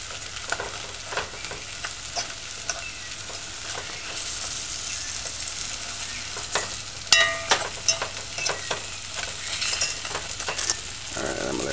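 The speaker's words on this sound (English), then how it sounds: "Alright, I'm gonna let this fry." Food fries in a pan, sizzling and crackling steadily throughout with scattered sharp pops and spatters, close and fairly loud with no talk.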